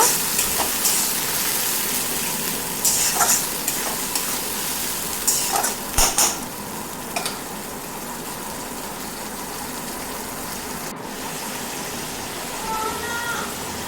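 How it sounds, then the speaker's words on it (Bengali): A spice paste of ground onion, ginger, garlic, chili, cumin and coriander frying in a pan for a home-style egg curry, a continuous soft sizzle with occasional scrapes and clinks of stirring, no one speaking. "বেটে রাখা মশলা আমি এর মধ্যে পেঁয়াজ আদা রসুন লঙ্কা আর জিরে ধনে দিয়েছি মশলাটা ভালো করে একটু কষিয়ে নিব"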